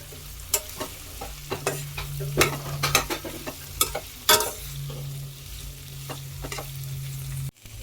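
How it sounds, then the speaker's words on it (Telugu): Okra stirred in a hot pan for a Telugu bendakaya pulusu, a spoon scraping and clacking in irregular strokes over a steady sizzle and low hum, close and moderately loud, then cut off abruptly near the end. "ఇప్పుడు నెక్స్ట్ మనం దీంట్లోకి బెండకాయలు వేసుకుందాం. ఇప్పుడు ఇవన్నీ మిక్స్ అయ్యేటట్టు కలుపుకోవాలి."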